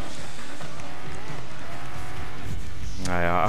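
In the Dirt 5 racing video game, a car crashes during a career race. A loud engine roar with tire skidding rises toward the end as someone talks over the game sound.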